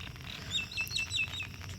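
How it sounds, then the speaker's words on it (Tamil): Sparrows chirp in the morning after rain, with a short run of high, quick tweets spaced a fraction of a second apart, faint over a low background hum. "காலையில் குருவிலாம் கத்துதில்ல,"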